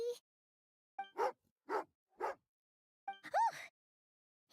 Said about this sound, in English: angry doggy